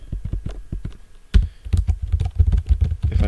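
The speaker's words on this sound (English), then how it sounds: "if I just start typing" Computer keyboard keys being typed in a quick, uneven burst of clicks, close and fairly loud, with no talking over them.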